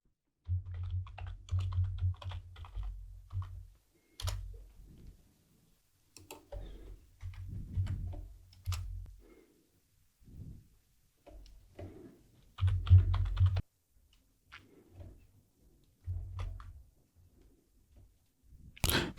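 Keys clatter on a computer keyboard as a reboot command is typed, a close, steady run of quick clicks broken by short pauses, with a low hum under several bursts.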